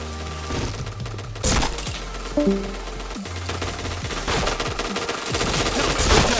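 Rapid bursts of automatic gunfire from a shooter video game crackle loudly and continuously, with sharp individual shots and rattling volleys layered over one another and no talking.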